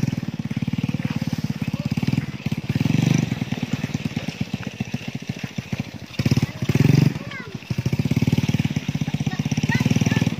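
A motorcycle engine chugs steadily up close on a rough, difficult road, rumbling low with pulsing revs that swell twice, voices faintly audible beneath the noise.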